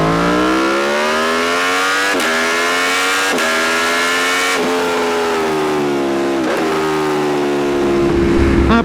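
An Aprilia Tuono V4 1100 Factory motorcycle, 185 horsepower V4 with quickshifter, accelerates hard up through the gears: a loud, close engine note rises repeatedly, broken by several quick shift cuts, before easing off at the end.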